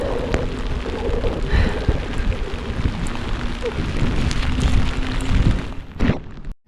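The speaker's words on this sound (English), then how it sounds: "Oh, it's starting to rain again." Steady rain falling outdoors on a city trail, a dense constant patter close by with scattered heavier drops, fading out abruptly at the end, no voices.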